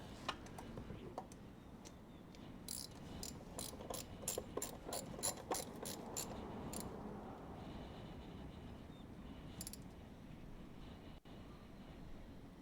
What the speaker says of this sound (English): when I'm turning this ratchet, I'm pushing on a like close to the point of rotation